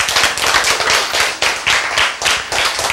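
A church congregation claps together in a continuous, loud burst of applause with a rapid, fairly even rhythm and no talking over it.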